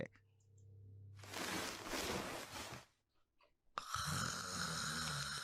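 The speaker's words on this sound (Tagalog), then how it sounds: "mahimbing pa rin natutulog at humihilik" A man snores while sleeping in a drama sound effect, giving long rasping breaths with a pause between them, loud and close.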